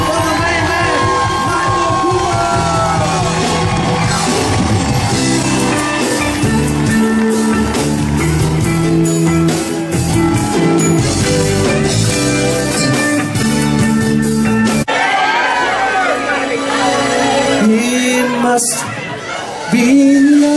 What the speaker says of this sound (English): A standing ovation for the main man.